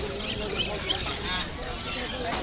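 Chinese goose chicks crowded at a rural village market on a Sunday morning, giving a dense, continuous chatter of high peeping calls close by, with market voices mixed in underneath.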